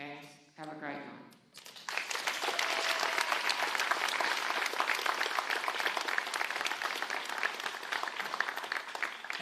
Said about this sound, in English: we can give him a big round of applause as he leaves the stage